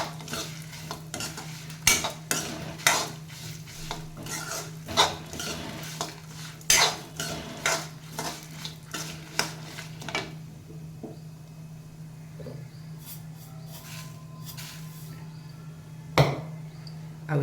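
Sesame seeds dry-roasting in a pan while being stirred, with rapid rhythmic metal clinks and scrapes of a spoon against the pan for about ten seconds, then quieter scattered taps over a faint steady hum.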